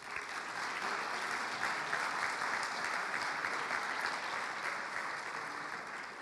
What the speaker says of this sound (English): I'd like to take just a moment and give them a big round of applause.